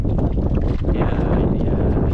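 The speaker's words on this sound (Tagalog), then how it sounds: "Tapos hangin na naman." Gusty wind buffeting the microphone out at sea on a boat during a strong northeast monsoon, a loud, steady low rumble with broadband roar running throughout and no pauses.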